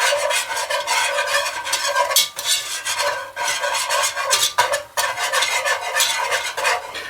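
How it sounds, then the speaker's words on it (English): A whisk scrapes steadily through flour and butter in a pot, producing continuous rhythmic rasping and stirring with a light sizzle, close and fairly loud, with no talking. "We're going to whisk the flour and the butter together."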